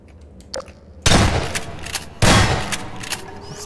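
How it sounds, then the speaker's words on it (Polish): Two loud, sharp bursts of gunfire in Garry's Mod ring out about a second apart, each trailing off in a noisy decay, with faint clicks between. "Słyszycie strzały?"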